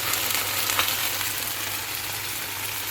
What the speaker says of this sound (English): I am frying it in a pan for just a few minutes with its own oil.